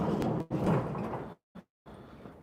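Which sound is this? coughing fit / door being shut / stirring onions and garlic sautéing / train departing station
door being shut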